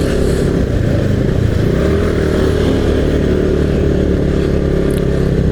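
A touring motorcycle's engine while riding a hilly coastal route in West Java, a loud steady drone with wind rush, constant throughout without revving breaks, no talk.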